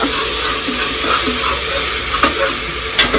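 Onion and brinjal sizzle steadily while being sautéed in a pan, a loud continuous frying hiss broken by the occasional scrape of a stirring spoon.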